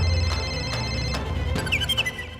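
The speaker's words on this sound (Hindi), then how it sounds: "फोन यहीं कहीं बज रहा है।" A mobile phone rings repeatedly in short electronic bursts with a musical ringtone melody, moderately loud and with no talking, in a comedic scene where the phone has been swallowed by a buffalo.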